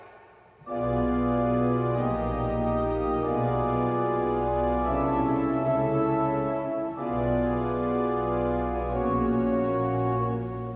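Sustained piano chords ring out one after another, a tense diminished seventh chord shifting and resolving to different keys, played alone with a slow, even pace.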